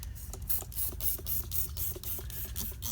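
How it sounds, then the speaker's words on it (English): Soapy water spritzed from a hand spray bottle onto a Honda Trail125/CT125 motorcycle tire during a rear tire dismount, a quick series of faint, close, rhythmic hissing squirts with trigger clicks. "I need to just spray this with some soapy water"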